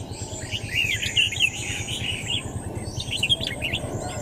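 Oriental magpie-robin fledgling just out of the nest, giving repeated thin high chirps in two bursts over a steady low background hum.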